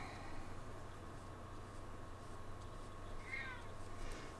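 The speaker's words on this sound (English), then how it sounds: "Stormy says hi." An elderly cat named Stormy gives a single short, faint meow late in the moment, heard over a steady low hum in a quiet indoor room with no talking.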